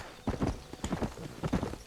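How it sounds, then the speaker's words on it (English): Rhythmic clip-clop of horse hooves in the video game Red Dead Redemption on Xbox Series S, steady trotting beats in pairs, close and fairly loud with no talk over them. "I don't know what to call my horse."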